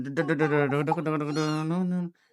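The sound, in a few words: cat meowing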